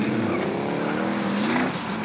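Steady engine drone of a vehicle being driven in Call of Duty Warzone on Rebirth Island, a continuous rising and falling hum with the revs climbing and easing, no one speaking.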